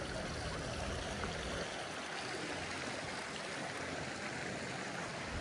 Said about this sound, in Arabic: ويبدي الماء من هناك ينزل على هذا الحوض